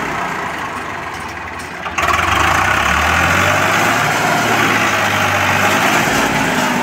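A Swaraj 735 FE tractor engine runs in gear with a loud, low, droning rumble that jumps louder after a couple of seconds as it works harder, then holds a steady strained tone.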